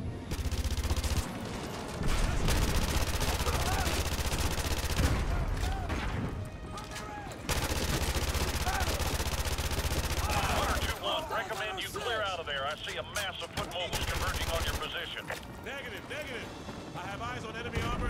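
Dense, sustained gunfire from the video game Call of Duty Modern Warfare 2, with automatic bursts and heavy shots rattling almost without pause while voices shout over the battle.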